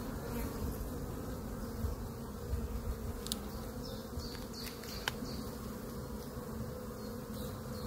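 Honey bees crawling over hive frames and feeding on nectar, a steady close swarm buzz with individual wingbeats flicking past, no voices.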